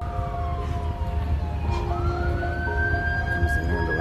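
An ambulance siren wails over steady road traffic rumble, its rising and falling tone sweeping up and holding as the vehicle approaches.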